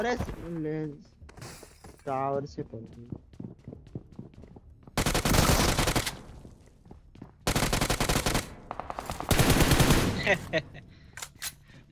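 DBS double-barrel shotgun fire in the BGMI battle royale game, three loud, harsh bursts of blasts with shattering crashes, following a stretch of someone talking.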